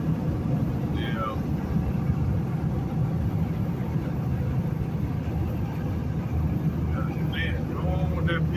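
A loud pickup truck passes with a deep, steady engine and exhaust rumble that fills the whole stretch, heard from inside a truck cab, with faint voice-like sounds over the top.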